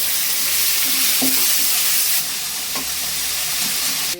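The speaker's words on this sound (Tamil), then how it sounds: "இப்ப நம்ம தக்காளி போட்டுக்கலாம்." Tomatoes frying with onions in a hot pan, giving a loud, steady sizzle with hissing steam and a few soft stirring knocks throughout.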